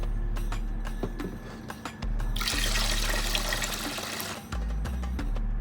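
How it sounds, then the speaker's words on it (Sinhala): Water pours steadily from a tap into a cooking pot of raw rice being readied for Iftar kanji, a continuous splashing rush that swells louder midway, with faint clinks and background hum. "මේකට මම වතුර ඇඩ් කරගන්න මුලින්ම."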